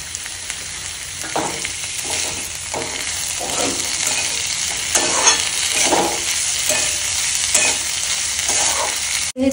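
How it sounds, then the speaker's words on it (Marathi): Onion and chili frying with corn in a pan, a loud steady sizzle broken by regular scraping strokes of a spatula stirring, close up with no speech. "हे चांगलं फ्राय झालंय कांदा मिरची वगैरे"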